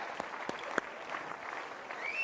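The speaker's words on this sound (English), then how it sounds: "Big round of applause." A large political conference crowd applauds faintly and at a distance, a thin continuous patter with a few sharper claps standing out.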